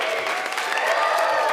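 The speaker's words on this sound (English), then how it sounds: "So when I say clap, everybody clap." Audience at a ComedySportz improv comedy show in Milwaukee clapping together, a dense steady wash of applause held at even loudness throughout, with no voices standing out.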